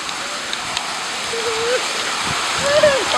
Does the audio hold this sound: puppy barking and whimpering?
no